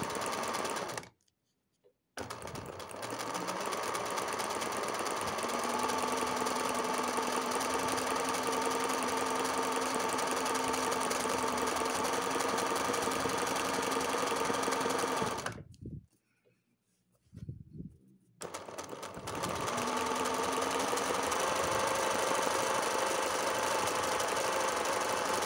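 A motorized home sewing machine stitches blanket stitch on cotton percale, running in a steady, continuous mechanical whir with rapid needle rhythm for long stretches, with two brief pauses where the motor stops before starting up again.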